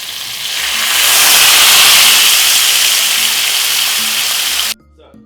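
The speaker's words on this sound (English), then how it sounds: "So what we're gonna do is add a little bit of boiling water." Boiling water poured into a pot of sizzling Jamaican brown stew chicken, a loud steady hiss and crackle that swells and holds for a few seconds before stopping abruptly.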